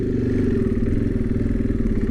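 A KTM 500 EXC-F dirt bike engine runs loud and close on its first ride, a steady throbbing rumble holding an even note with no voices over it.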